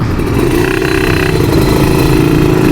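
A Kawasaki Ninja RR two-stroke motorcycle with a Moto1 ceramic 59 mm block and a PWK KX85 carburetor runs loud and close, holding a steady, raspy idle without pause.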